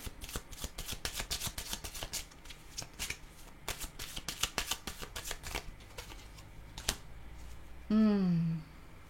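Tarot cards being shuffled by hand for a card reading, a quick run of crisp riffling flicks up close and fairly quiet, ending in a short tonal sound, with no talking.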